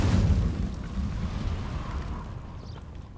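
An Incendio fire spell in Hogwarts Legacy bursts out as a loud, low whooshing roar that fades gradually over a few seconds.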